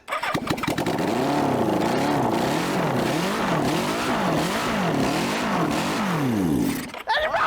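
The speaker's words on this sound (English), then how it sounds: "We're going to bench test the engine, and I know it's going to go." A Moto Martin motorcycle engine on a test bench sputters to life, then runs loud and close with a rising and falling throb for several seconds before cutting out abruptly.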